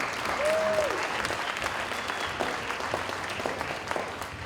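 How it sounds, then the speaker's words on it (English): An audience at a school winter concert applauds in a steady, moderately loud wash of clapping, with a brief voice near the start. "Let's give a round of applause to all of you guys, too"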